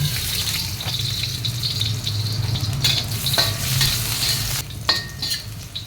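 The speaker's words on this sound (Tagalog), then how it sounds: "Sa separate pan, naglagay lang ako ng konting mantika. Then isinunod kong igisa yung bawang." Garlic sautés in a little oil in a pan, a close, steady frying hiss marked by occasional scrapes and stirs of a utensil, over a low background hum.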